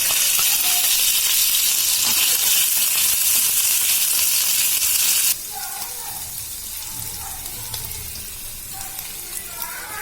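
Ginger garlic paste hits hot sunflower oil in a pan, producing a loud, bright, steady sizzle that abruptly drops to a softer crackle with scattered pops and faint stirring.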